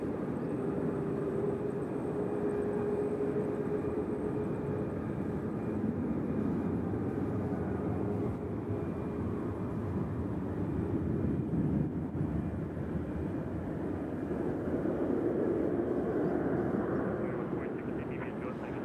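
An airliner accelerates along a runway at Nashville International Airport, a broad steady engine roar heard from a distance for the whole stretch, with faint talk beneath it at times.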